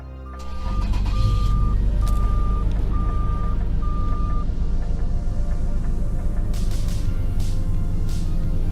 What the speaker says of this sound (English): Here's the startup on it.